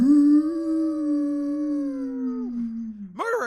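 Dogs howl together in a long, steady, mournful tone that slowly falls and fades, then one rises into a sharp yelping howl at the end, close and loud with no talk.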